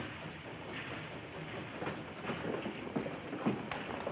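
Railway station ambience from a 1940 film scene: a steady wash of train and platform noise with a few sharper clanks and knocks toward the end, no voices.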